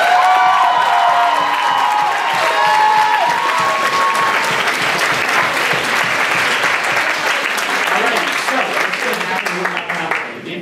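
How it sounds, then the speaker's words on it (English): Applause from an audience at a spring concert, a loud, sustained roar of clapping with cheers and whoops mixed in, filling the room and slowly thinning toward the end. "Warm round of applause."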